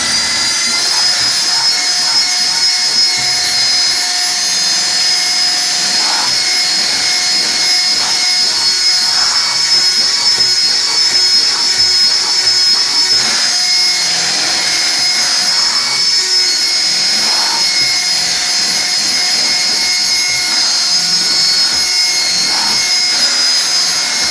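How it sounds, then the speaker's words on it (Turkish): An electric hand mixer whisks microwave mug cake batter, giving a loud, steady high-pitched motor whine with a continuous broadband buzz that holds unbroken throughout, with no talking. "hepsini çırpıyorum. İyice karışana kadar arkadaşlar."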